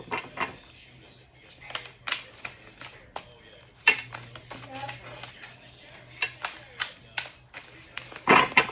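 Oversized playing cards being shuffled by hand, giving quick papery riffles and clacks in uneven bursts at close range.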